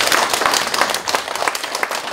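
Audience applause at the end of a lecture in a hall, a burst of dense, even clapping from a sizable crowd lasting the whole moment, fairly loud and close.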